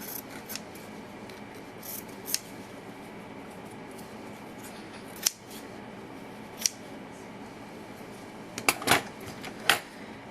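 Material for a miniature couch is snipped with scissors in sharp, isolated cuts spaced irregularly over a quiet background, with a small cluster of snips near the end and no talking.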